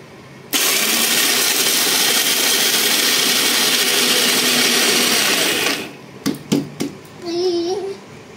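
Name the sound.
mixer grinder blending protein powder ingredients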